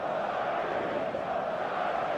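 Steady, dense stadium crowd roar of football fans in eFootball 2026, a continuous wash of massed voices and chanting that holds at an even level throughout with no individual sounds standing out.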